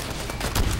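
Rapid pistol shots crack in a shooter video game, a quick cluster of several sharp bangs packed into under a second, fairly loud and up close.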